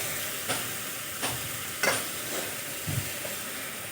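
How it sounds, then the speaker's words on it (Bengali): A spoon stirs Bhola fish curry in a hot pan, oil sizzling steadily throughout with a handful of soft scrapes and knocks against the pan at irregular intervals. "আবারও আমি মিশিয়ে নেব।"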